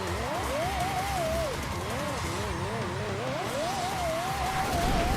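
A Lexus LFA drift build in Forza Horizon 4 screams at high revs, its engine pitch bouncing up and down as the clutch is kicked, with tire squeal underneath and a voice talking over it throughout.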